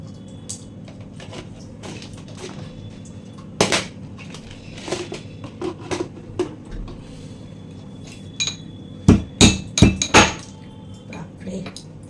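Cardamom pods being crushed for tea, with sharp cracking knocks and clinks that cluster into a loud burst of pounding near the end, close by, over low room noise.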